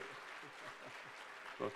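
Applause from a church congregation at a Sunday afternoon service, soft and steady, with a voice talking over it and a brief louder burst near the end.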